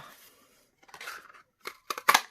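Scissors snipping a paper sentiment out of cardstock for papercraft: a few crisp, close, separate cuts that grow louder toward the end, no talking.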